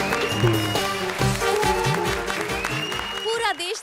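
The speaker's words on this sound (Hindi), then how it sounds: "जोरदार तालियां।" Studio audience applause on a comedy show stage, brief clapping heard under loud talk and music.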